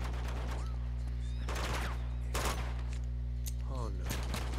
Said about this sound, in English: I still hear bullets.